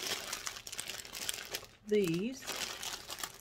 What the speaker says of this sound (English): I guess it's probably going to sound real crinkly on my video.